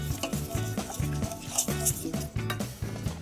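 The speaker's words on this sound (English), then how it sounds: "I gently whisk everything together over very low heat until" Sugars whisked together in a pan over very low heat for a chocolate peanut butter cake: steady rhythmic scraping and clinking of a whisk against the pan, close and continuous, with no voices.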